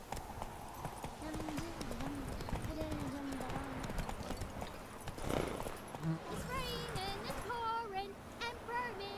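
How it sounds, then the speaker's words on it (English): Horse hooves clip-clop at a gallop in The Witcher 3: Wild Hunt, a steady mid-level rhythm running throughout, with someone speaking over it and a brief whinny near the end. "Horse, what are you doing?"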